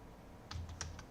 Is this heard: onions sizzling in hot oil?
no